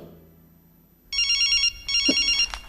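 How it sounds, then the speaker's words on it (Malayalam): A mobile phone rings in a classroom, two loud electronic ringtone bursts following a quiet moment, with a brief thump between them and no talking. "Whose phone is that?"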